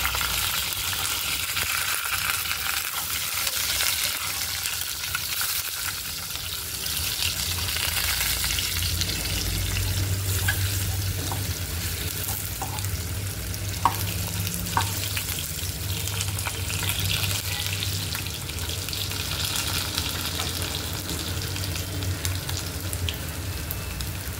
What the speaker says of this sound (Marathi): आपल्याला हे बटाटे तळून फेकायचे